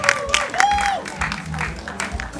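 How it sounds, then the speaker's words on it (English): A crowd applauds the winner at a marathon in Lagos, Nigeria, a short burst of clapping and cheering mixed with a loudspeaker voice and whistle-like tones. "So big round of applause."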